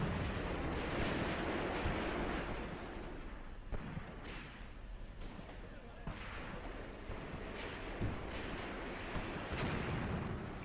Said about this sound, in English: There's more firing coming from over here, I think. Oh, that's a mortar half-track, I believe.